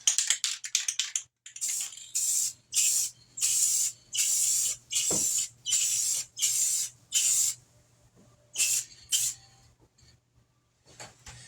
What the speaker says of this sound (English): So you need a good clear coat with a UV rating, UV resistant.